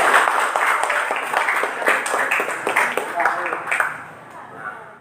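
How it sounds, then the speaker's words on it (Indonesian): Classroom of students clapping for a presenting group during a lesson, a brisk patter of hands that starts full and fades out over a few seconds, with some voices underneath. "Nah, kasih tepuk tangan dulu untuk kelompok 1"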